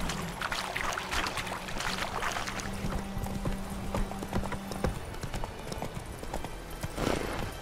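Roach the horse's hooves clip-clopping over ground in The Witcher 3, a steady rhythmic trot of close hoofbeats with faint watery ambience and a low background hum.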